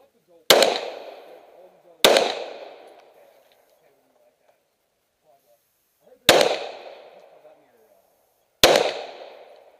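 Four loud, sharp pistol shots ring out at an outdoor fish-and-game club fun shoot. They come at uneven intervals and each one echoes and decays, with quiet gaps between them.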